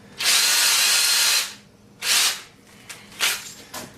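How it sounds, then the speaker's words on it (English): A power drill whirs in one long burst and then several shorter ones, driving into the end of a piece of an outdoor TV antenna kit. The drill is close and loud, with quiet gaps between bursts and no talking. "I'm gonna stick the drill in the end of it."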